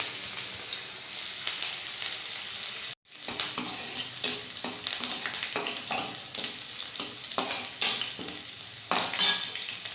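Finely chopped ginger and green chili hit hot oil with a sharp, bright sizzle that runs almost continuously after a brief gap, punctuated by repeated spoon scrapes and clinks against the pan.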